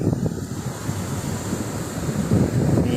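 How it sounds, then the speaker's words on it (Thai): Surf breaking on the beach at Ao Nang, Krabi, with wind buffeting the microphone, a steady close roar of waves and gusts that swells louder toward the end, with no voices. "นั่งฟังเสียงสายลมโปรยปลาย เสียงน้ำทะเล กระโชก"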